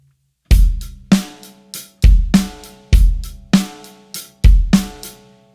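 A drum kit plays a slow pop beat, with a ringing snare backbeat alternating with kick drum hits and cymbal taps in a steady, even rhythm, loud and close.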